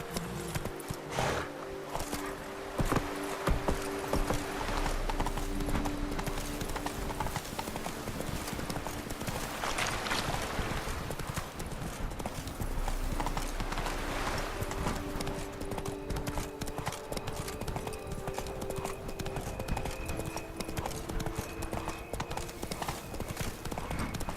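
Horse hooves gallop steadily in The Witcher 3, a continuous run of clip-clop beats under a constant game ambience with faint background tones, loud and sustained throughout.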